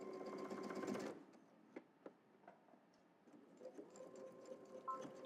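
A sewing machine stitches a double breasted jacket in a loud one-second burst, then stops, leaving faint ticks, fabric handling and soft movement sounds nearby.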